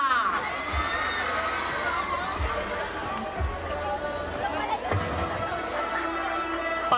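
Festival crowd at an outdoor music fest in Bataan cheering, whooping and shouting in a steady dense roar, with scattered children's yells and chatter throughout.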